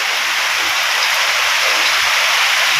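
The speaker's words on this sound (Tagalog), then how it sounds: "maulan ngayon lang uh, ulan ngayon lang" Steady rain falls as a loud, dense, even hiss that continues without a break and has no voices over it.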